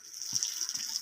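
Water sprays steadily onto bricks to keep them wet for curing at a studio courtyard repair site, a soft continuous hiss with faint low knocks, quiet and brief.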